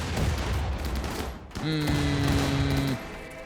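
Gunfire in a RimWorld fight against a mechanoid cluster, with an auto mortar involved: a dense, steady crackle of shots that dips briefly, then returns with a sustained tonal whine riding over it before cutting back.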